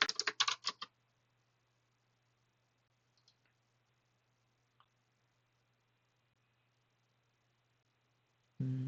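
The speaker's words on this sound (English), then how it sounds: "I'm gonna type I don't know." A short, quick burst of keystrokes on a computer keyboard opens the clip. A near-silent stretch follows with a couple of faint isolated clicks, and a louder sound cuts in at the very end.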